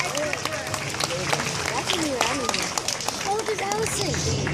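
Audience applause at an aquarium animal show for Chiquita, a South American animal, with clapping mixed into crowd chatter, children's voices and shuffling footsteps in a busy, echoing space.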